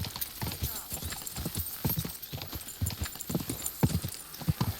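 Horse hooves clip-clop at a steady walking rhythm in the Kingdom Come: Deliverance II video game, muffled and close over a soft outdoor ambience, with faint bits of talk mixed in.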